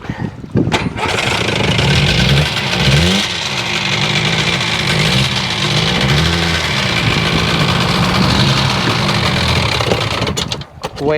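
A Sea-Doo 787 RFI jet ski engine cranks and starts while the craft sits in the water, then runs at a low, uneven idle. It stays loud and close for about ten seconds before cutting out.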